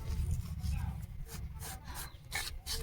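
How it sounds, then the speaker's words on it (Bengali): Dry spices, fennel and cumin, rubbed on a dry flat grinding stone, giving a low continuous scraping rumble with repeated rasping strokes, close up and moderately quiet. "শিলটা কিন্তু শুকনো আছে মৌরি আর জিরেটা গুঁড়ো করে নেব"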